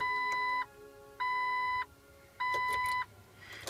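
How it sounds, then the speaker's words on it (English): A 2003 Jeep TJ Sport sounds its key-in warning chime: three evenly spaced electronic beeps, each about half a second long, steady and clear over faint background noise. "I have my key in so it doesn't beep"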